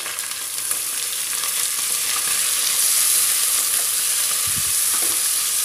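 Onions and spices fry in hot oil for a quick chicken biryani, a loud continuous sizzle with occasional stirring scrapes and a dull knock near the end.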